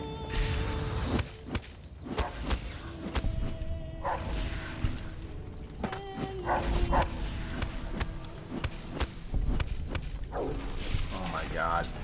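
Dogs in the Fallout: New Vegas video game bark repeatedly in loud, close bursts, mixed with whooshing combat effects and clicks, while a person talks over the action.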